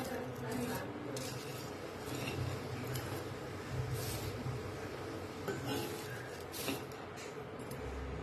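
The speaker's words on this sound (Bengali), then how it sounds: "এগুলো সবগুলোকে শুকনো খোলায় ধীরে ধীরে ভাজতে হবে" Whole spices for homemade amla chyawanprash are dry-roasted slowly in a dry pan, giving a steady, continuous scraping and rustling as they are stirred and shuffled across the hot metal, close and moderately loud throughout.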